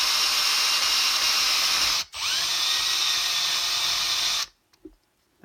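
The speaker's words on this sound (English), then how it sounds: "so we're gonna take our power drill" A power drill whirs steadily, briefly stops, then runs again with a rising pitch as it drives a screw into an organ's contact block, before cutting off into quiet.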